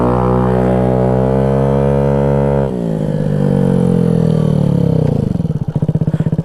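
A tuned Honda Ruckus scooter engine revving up close and loud, pitch climbing steadily, dipping at a shift, then rising again before ending in a rough, sputtering pulse.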